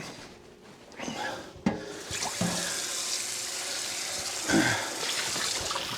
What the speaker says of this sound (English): I want to move back over to the sink and rinse this out